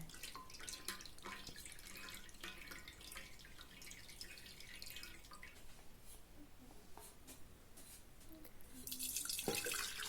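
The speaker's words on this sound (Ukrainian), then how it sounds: "всю шипшину я відкидаю на друшляк." Water from boiled rose hips dripping and trickling steadily through a colander, with a brief rush of splashing near the end; no talking.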